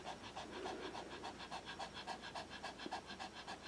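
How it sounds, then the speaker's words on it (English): A small Pomeranian dog pants steadily in a warm room, quick rhythmic breaths repeating close by at an even pace, with no talking. "She's panting just because it's hot in the room."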